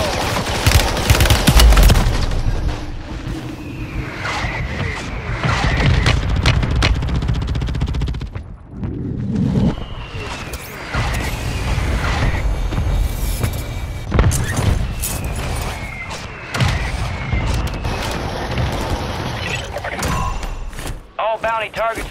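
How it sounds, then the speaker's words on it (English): A friendly mortar strike in Call of Duty lands amid constant gunfire and machine-gun bursts, with heavy booms and thuds packed densely together and loud throughout, while voices talk over the combat. "Friendly mortar strike inbound."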